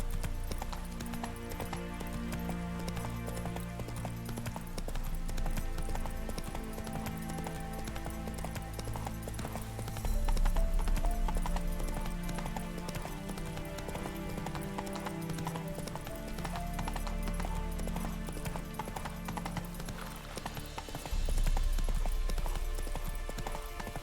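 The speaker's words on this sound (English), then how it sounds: "Whoa there, Roach" Horse hooves clip-clopping at a steady gallop in The Witcher 3: Wild Hunt, a continuous rhythmic clatter mixed with game music and ambience, growing louder in brief surges.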